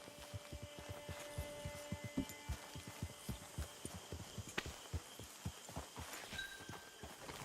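A horse walks in Red Dead Redemption 2, its hooves clopping in a steady, even rhythm over a low hum, close and fairly quiet throughout.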